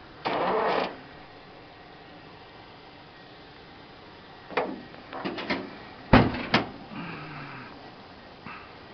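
Metal trunk lid on a 1950 Dodge Coronet, heard as a short rattle and creak, then a series of clunks and a solid slam, close and loud against a quiet background.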